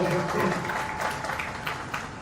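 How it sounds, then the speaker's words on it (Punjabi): At a Punjab Police function, an audience applauds for their fathers with dense, sustained clapping from a crowd that stays steady and fairly loud for the whole stretch. "ਇੱਕ ਵਾਰੀ ਆਪਣੇ ਪਿਤਾ ਜੀ ਲਈ ਤਾੜੀਆਂ ਜ਼ੋਰਦਾਰ ਮਾਰ ਦਿਓ"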